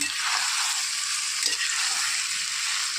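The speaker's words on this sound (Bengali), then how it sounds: "মশলাটা কষিয়ে নেব" Spice paste frying in oil for a vegetable and shrimp dish, a dense, steady close hiss and sizzle with light stirring underneath, no talking.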